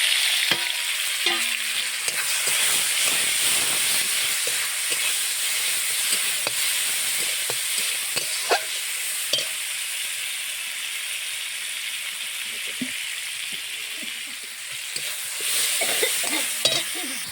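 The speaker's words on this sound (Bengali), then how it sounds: "আমি এবার টমেটোগুলো ঢেলে দেব" Tomatoes tipped into a pan of onions fried until red, sizzling and hissing steadily and loudly with steam, joined by occasional stirring clatter, close up throughout.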